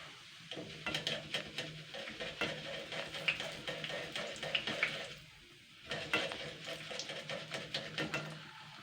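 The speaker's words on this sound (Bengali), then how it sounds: "এইভাবে কিন্তু আমি বেশ খানিকটা কিন্তু চাল ভেজেও নেব" Raw rice fries in hot oil while being stirred in a strainer, with bursts of crackling sizzle and metallic scraping and clinking that pause briefly around the middle before resuming, quiet overall.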